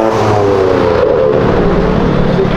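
Car doing a tyre burnout at a car meet exit, a loud, sustained engine roar with harmonic revving held near and steady throughout.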